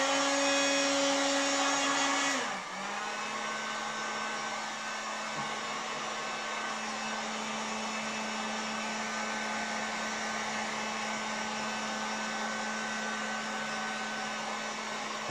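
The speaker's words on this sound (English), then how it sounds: "I'm going to apply the heat with the heat gun now." A heat gun blows steadily as it shrinks covering film on a model aircraft wing, a loud continuous airy roar with a steady hum that drops slightly in pitch early on, with no talking.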